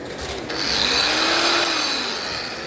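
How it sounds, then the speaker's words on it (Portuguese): A Wagner cordless electric angle grinder spins up at a Feicon 2022 trade show, a steady high whine that rises after a brief start and holds, with busy expo noise underneath. "Esmerilhadeira elétrica, olha que legal"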